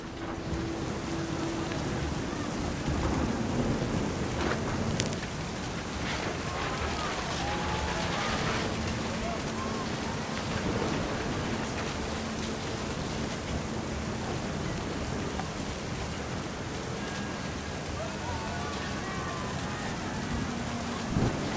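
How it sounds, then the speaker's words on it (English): Steady rain and rumbling thunder from the game What Remains of Edith Finch, a continuous dense wash with low rolls, with a faint voice and brief musical tones layered in. "The thunder sounded much too close and full of angry power."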